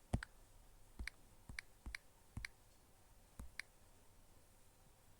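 Computer mouse clicking while working in Canva, about eight crisp, close clicks at irregular intervals over a near-silent background.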